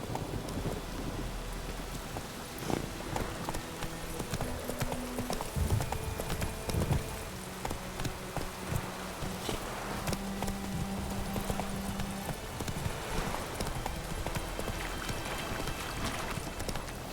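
A horse in The Witcher 3 pounds along in a steady rhythmic clip-clop gallop, its hooves loud and close beneath rain and rumbling thunder.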